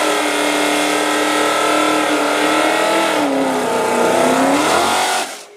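A 1965 Mustang GT350R muscle car engine roars loud and close in a sustained, steady growl with a slight pitch dip and rise, cutting off abruptly at the end.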